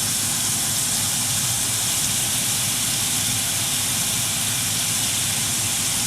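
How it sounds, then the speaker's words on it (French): Onions hitting a hot pan for goulash set off a loud, steady, broadband sizzle that holds unbroken and close throughout, with no voices over it. "je vais déjà mettre les oignons"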